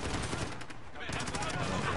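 Rapid gunfire from Call of Duty Modern Warfare gameplay, dense bursts of shots sounding continuously and loud for about two seconds with no voices.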